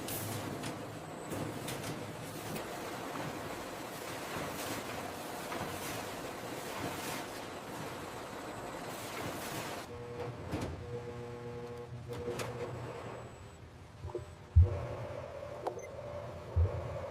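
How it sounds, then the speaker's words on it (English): Machinery on an automated banana peeling line runs with a steady mechanical whir and rattle. Partway through it eases to a quieter hum with scattered clicks, then a sharp thump near the end. "The automated peeling line operates with immense precision and speed, a marvel of modern engineering."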